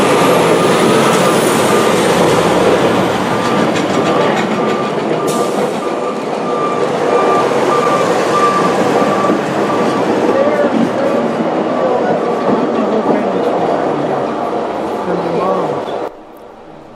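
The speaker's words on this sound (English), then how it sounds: "a CSX coal train then pulled into town" A CSX coal train pulls into Thurmond, a long steady rumble of rail wagons with a sustained horn-like tone running through it, loud and continuous before dropping off abruptly at the end, with talk over it.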